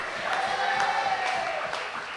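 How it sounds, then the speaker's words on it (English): Audience applause at an NNP zonal political meeting in the Beausejour Community Center, a steady crowd clapping and cheering from a moderate distance, carrying on evenly throughout. "Give him a round of applause again"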